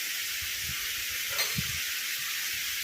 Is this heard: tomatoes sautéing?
yes